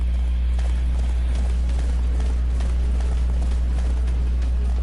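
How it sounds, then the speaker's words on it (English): Horse hooves clip-clopping in a video game, a quick, steady run of muffled hoof beats under a constant low background drone, with no voices present. "Giddy up, the horse."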